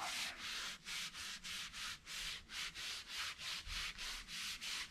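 Rust being rubbed off a gun by hand, a close, steady back-and-forth scrubbing with about a dozen even strokes, rhythmic and dry, alone with no voices.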